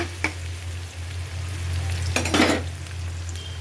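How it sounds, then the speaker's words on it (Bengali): Onions with raw cumin seeds sizzle steadily in a pan, a low continuous fry with a couple of brief clinks and a louder stirring scrape near the end. "লাল হোক তার সাথে কিছু জিরা দিয়ে দিলাম পেঁয়াজের সাথে কাঁচা জিরা"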